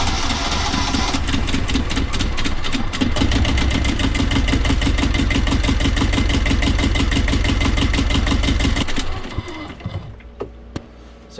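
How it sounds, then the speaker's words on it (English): A Universal 5411 M15 marine diesel cranks and fires after an oil change, then runs with a loud, steady rapid knocking rhythm close by before shutting down and leaving a few faint clicks. "We're going to start the engine."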